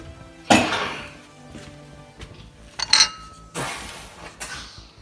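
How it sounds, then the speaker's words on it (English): A spoon stirs hamburger helper beef pasta in a metal pot, with a few loud, sharp clanks and scrapes against the sides and quieter clinks in between, no talking. "Stir it and bring it to boil."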